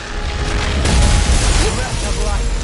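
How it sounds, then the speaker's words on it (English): Explosion attack in the PS5 action RPG Tales of Arise: a loud, booming blast with rumbling low-end debris and clatter, dense and close throughout its short length, amid busy battle effects. "Explosion."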